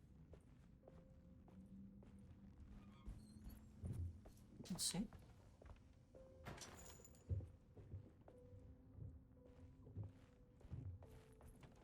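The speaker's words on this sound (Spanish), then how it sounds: "Pisadas." Footsteps in the horror video game Alone in the Dark, a series of soft repeated steps beneath background game ambience and a hum, with a person speaking over them.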